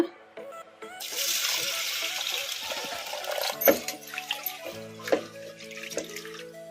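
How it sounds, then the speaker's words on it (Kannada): Toor dal lentils being washed in water, with running tap water splashing into a vessel and sloshing and clinking of the pot as the grains are rinsed. "ಈ ಬೇಳೆಯನ್ನು ತೊಳೆದು ಇಟ್ಕೊಂಡ್ಬಿಡೋಣ"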